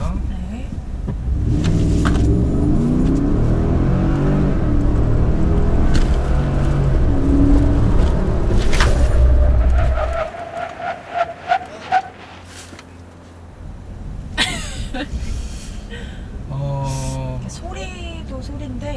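A Cadillac Escalade in a test drive, its engine roaring under hard cornering as the tires scrub and push, then the engine note drops away, with people talking inside the cabin near the end.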